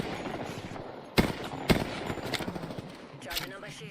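Video game firefight with two loud close shots followed by a quicker run of fainter automatic fire, over constant game ambience and voices.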